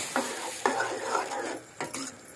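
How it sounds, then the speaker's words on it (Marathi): Peas and ridge gourd tumble into a pan of hot masala, sizzling with a few quick stirring scrapes and clatters in short bursts over a steady frying hiss. "आणि आता हे वाटाणे दोडके ओतून घ्यायचं."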